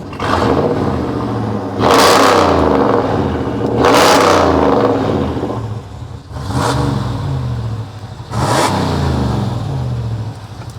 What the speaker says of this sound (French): je vais mettre un petit coup de gaz